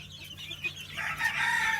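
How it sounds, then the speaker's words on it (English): Chickens of a new breed settling into their coop, clucking and squawking close by in a short burst of overlapping calls that grows busier toward the end, with no talk. "Good looking chickens though."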